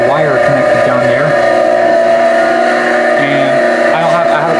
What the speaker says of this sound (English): That is a phase converter running with the cover open